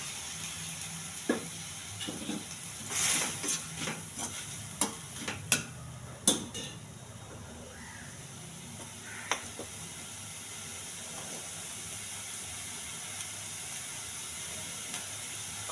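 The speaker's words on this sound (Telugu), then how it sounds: "కొద్దిగా అల్లం వెల్లుల్లి పేస్ట్, పచ్చివాసన పోయేంత వరకు వేగించాలి." Ginger garlic paste frying in a pan with onions and green chillies gives a steady, soft sizzle and hiss. Scattered clicks and scrapes of stirring come through in the first half, then the sizzle settles into a smooth, even hiss.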